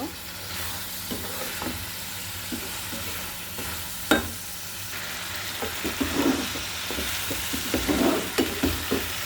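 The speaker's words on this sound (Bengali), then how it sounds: "এটা সুন্দর করে নেড়ে চেড়ে ভাবে কষিয়ে নেব" Salted hilsa fish pieces fry with tomato in a hot pan, making a continuous sizzle broken by repeated scraping stirs of a spatula, close and steady, with no one talking.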